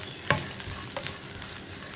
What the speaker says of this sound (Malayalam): ഈ പൊടികളൊന്ന് കുക്കായി വരുന്നത് വരെ നമുക്കൊന്ന് ഇളക്കി കൊടുക്കാം